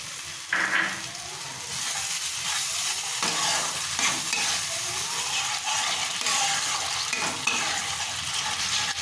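Fish masala with whisked sour yogurt is stirred in a sizzling pan for Bengali rui fish kaliya: close, continuous frying hiss broken by repeated scraping and sloshing stirs, with no talking.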